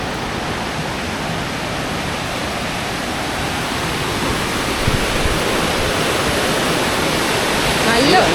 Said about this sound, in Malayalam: ഇത് നമ്മൾ ഡാമിൽ ഷട്ടർ തുറന്ന വെള്ളമാണ് വരുന്നത്.